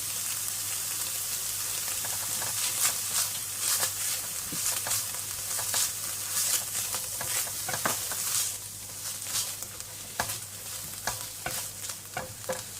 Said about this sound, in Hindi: गार्लिक जो है उसको थोड़ा सा इसमें फ्राई करना था